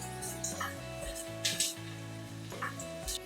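Onions frying in a pan toward golden brown give a soft, continuous sizzle with a few brief louder bursts, partly masked by steady tonal sounds in the background.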